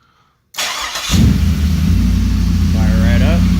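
A GM LS junkyard engine mounted on an engine stand cranks and fires up, settling into a loud, steady idle close by, with a voice speaking briefly over the running engine.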